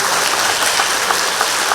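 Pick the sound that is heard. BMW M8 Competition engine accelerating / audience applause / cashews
audience applause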